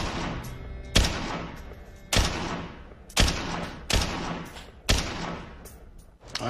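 An AK-based sniper rifle fires six spaced single shots, each a sharp loud crack with a short ringing tail, roughly one second apart, outdoors at close range.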